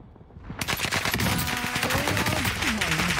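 Rapid automatic gunfire rattles in dense, loud bursts during an online shooter game, with sharp repeated shots over a continuous background of battle noise and no talking.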